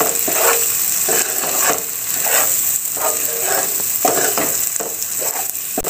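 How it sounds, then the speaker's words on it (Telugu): Ginger garlic paste with salt, chili and turmeric fries in a pan for a tamarind-leaf and dried-fish curry, giving a loud, close, continuous sizzle with repeated scraping strokes of stirring, with no talking. "దీన్ని కొంచెం వేగనిద్దాం"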